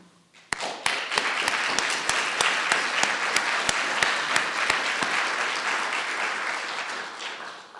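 An audience at a conference's opening remarks applauds to welcome Senator Richard Lugar, with steady, dense clapping that swells quickly and holds for several seconds. Sharp, evenly spaced taps stand out near the start before the applause fades toward the end.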